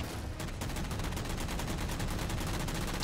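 Rapid, sustained automatic gunfire from a turret in a video game, a dense continuous burst striking the player's shields, loud and close throughout with no pauses.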